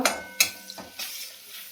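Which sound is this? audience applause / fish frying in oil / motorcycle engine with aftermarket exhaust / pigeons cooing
fish frying in oil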